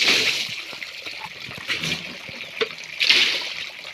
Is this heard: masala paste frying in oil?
no